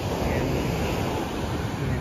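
Sea waves rolling onto Surin Beach in Phuket, Thailand, a steady broadband wash of surf with some wind rumbling against the microphone, constant and fairly loud throughout with no speech.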